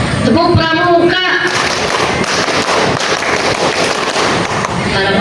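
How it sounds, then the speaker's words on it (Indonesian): Scout-style group rhythmic clap (tepuk pramuka) at a formal evaluation gathering in Bogor Regency, Indonesia: a brief voice, then a loud, dense burst of many hands clapping together that carries on to the end. "Tepuk pramuka."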